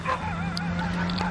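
A dog howls at night in open surroundings, a wavering drawn-out cry over steady low background hum, with brief higher yelps from other animals nearby.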